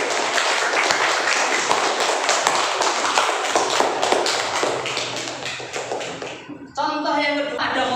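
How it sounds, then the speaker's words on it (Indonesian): Students in a classroom clap together in a loud, close, uneven burst of hand claps lasting several seconds. It stops abruptly and a voice follows. "Silakan tepuk tangan."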